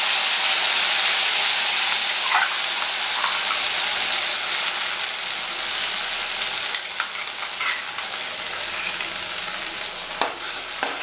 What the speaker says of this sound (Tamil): அரைச்சி வச்சிருக்கிற கருவேப்பிலை மிக்ஸை இதில் மிக்ஸ் பண்ணி நல்லா வறுத்துக்கலாம்.